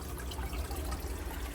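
Water scooped out of a guppy fish tank, a short close sloshing and trickling splash.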